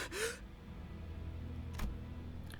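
Sinclair, a character in Limbus Company, gasps sharply for air once at the start, followed by heavy, breathy quiet with a brief noisy burst later.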